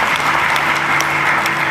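Audience applause at a live talk, a loud, dense burst of many people clapping together, steady for the whole stretch with no speech over it.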